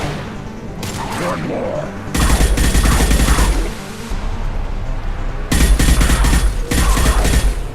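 Heavy high-impact gunshots in Mass Effect 2 combat, loud bursts and booming blasts in clusters separated by short lulls, with a voice speaking briefly between the shots.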